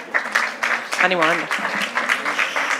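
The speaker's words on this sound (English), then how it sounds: "A very big applause, please." An audience applauds a startup presentation at a conference discovery stage, a dense patter of clapping that carries on while a voice speaks briefly over it.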